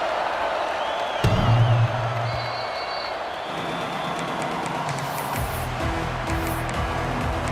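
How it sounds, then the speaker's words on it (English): A stadium crowd in the CFB26 college football video game, at a Michigan Wolverines game, keeps up a steady, moderately loud roar. A brief louder swell comes early on. "that last score took a little oomph out of this crowd."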